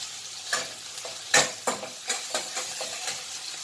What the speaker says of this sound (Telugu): ఇది ఇట్లా ఫ్రై అవుతూ ఉండాలి. ఇప్పుడు అల్లం వేద్దాం, కరివేపాకు